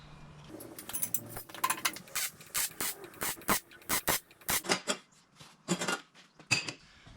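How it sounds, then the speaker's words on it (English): Light metal taps and clinks ring out close by as a small metal workbench piece is knocked back into place before MIG welding, a busy irregular run of sharp hits with brief pauses between them. "I can just tap it back into place"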